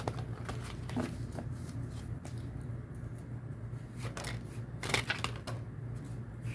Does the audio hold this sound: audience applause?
no